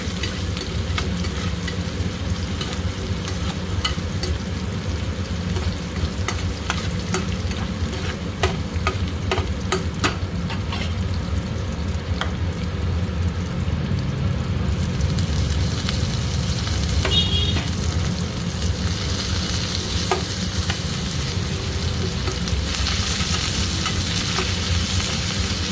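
Onions fry in a pan with a loud, continuous sizzle that lasts the whole stretch, while occasional scraping and stirring clicks rise over the hiss.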